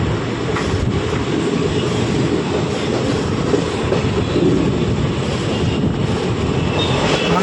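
Ballari-Hosapete DEMU train running fast on a double-line track, continuous loud rumbling roar of wheels and motors with faint squeal, steady throughout, no talking.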